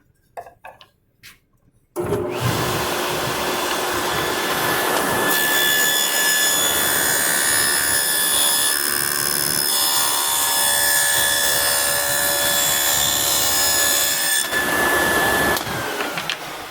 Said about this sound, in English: to clean it up, I just run sandpaper on a 45 to break that off